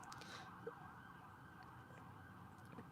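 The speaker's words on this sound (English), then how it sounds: "there's an ambulance right now coming through, and he just barreled through" An ambulance siren sounds while the vehicle passes through an intersection, a faint steady wail over low traffic rumble, with no voices.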